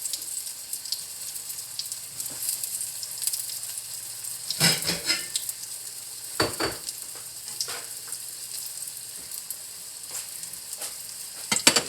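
Special fried rice sizzles steadily in a pan, a constant hiss with a few louder bursts and scrapes as it is turned, close and alone.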